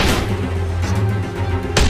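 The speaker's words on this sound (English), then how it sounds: "BB gun!" A BB gun shot in The Walking Dead: A New Frontier, a sharp loud crack at the start ringing off under a low droning score, with another sharp hit at the end.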